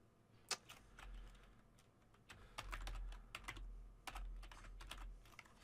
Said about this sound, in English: I'm going to go ahead and type the class